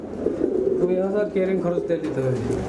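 Lahori pigeons coo nearby in a continuous, rolling series of soft throaty calls, close and moderately loud.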